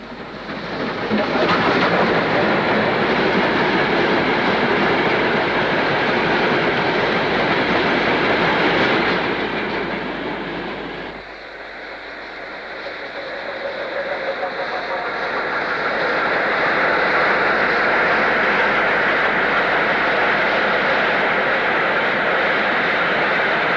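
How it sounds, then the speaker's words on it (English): Black 5 steam locomotive passing at Shap, a loud broad roar that swells, dips briefly midway, then builds again as the train goes by, with a faint voice over it. "Seen from the trackside, a standard Class 4 takes the weed-killing train north, and a Black 5 heads south"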